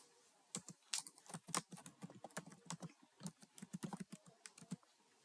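A password is typed on a computer keyboard in a quiet room, with a quick, uneven run of crisp key clicks, close and clear, with no talking.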